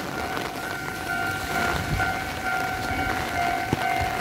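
An EMU585 commuter train on Taiwan's Yilan line rolls past with a steady rumble and a sustained tonal whine, continuous and moderately loud for several seconds.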